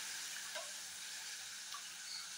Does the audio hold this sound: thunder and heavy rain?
no